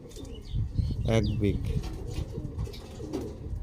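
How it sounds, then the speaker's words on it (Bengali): A Dubai breed teddy pigeon coos close by in a few low, rolling bursts, while someone talks over it. "টেডি পায়রা খুব বড় হয় না।"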